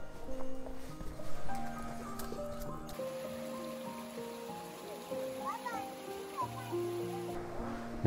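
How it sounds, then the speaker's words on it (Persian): A donkey carries goods up a hill path in a mountain village, its soft hoof clops close by under steady outdoor ambience, with people talking throughout. "اینجا هم برای آوردن وسایل بالا از الاغ استفاده میکنن"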